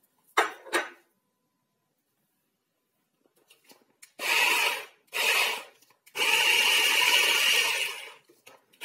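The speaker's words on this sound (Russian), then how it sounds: "И сейчас будем это все в блендере будем" Loud bursts of blender whirring while chopping apples and onion, a short pulse then three longer runs separated by brief pauses, close and with no talking.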